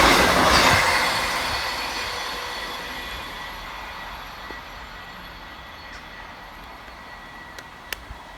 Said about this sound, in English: passing fast through the station for East Midlands Railway is 158777 and 158812